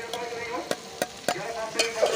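Dal being stirred and fried in a pan for khichdi, with a steady sizzle broken by several sharp spoon scrapes and knocks against the pan, close and fairly loud, no talking.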